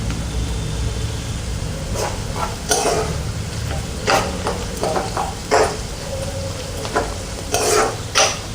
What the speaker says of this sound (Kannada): ತುಂಬ ಚೆನ್ನಾಗಿ ಫ್ರೈ ಆಗಬೇಕು ಇದೆಲ್ಲ.